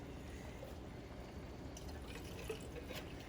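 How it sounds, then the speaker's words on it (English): Water is poured from a tap into empty sauce cans, a faint, steady trickle and splash at low level. "Get you some water inside those cans."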